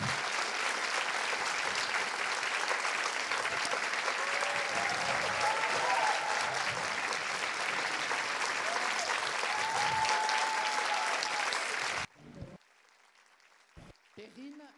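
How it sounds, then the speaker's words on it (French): Thunderous audience applause fills a theatre for Audra McDonald's stage welcome, a dense sustained roar of clapping with faint voices underneath for about twelve seconds, then it cuts off abruptly into near silence with a few scattered sounds. "Merci d'accueillir avec un tonnerre d'applaudissements Audra McDonald."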